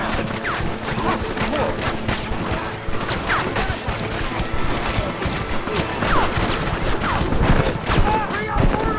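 Rapid bursts of gunfire crackle and snap in the video game Red Dead Redemption, a dense fusillade of overlapping shots and impacts mixed with shouting voices.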